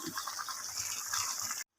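Water pours steadily into a cooking pot holding pork leg being prepared for a Filipino dish, a close, continuous gushing that stops abruptly after about a second and a half.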